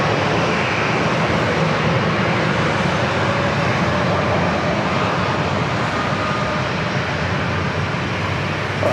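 A U.S. Navy Gulfstream business jet at San Diego airport, a continuous broadband jet engine roar holding loud and steady throughout, with no talking.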